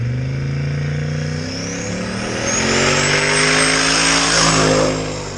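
Turbocharged LS-swapped Ford Ranger truck launching in four-wheel drive on studded ice drag racing tires, a loud sustained engine roar climbing in pitch as it pulls away, steady and close, with no voices.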